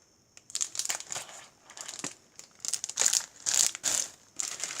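Plastic sticker packs crinkle and crackle as they are handled up close, in a run of short, irregular bursts with brief pauses between them.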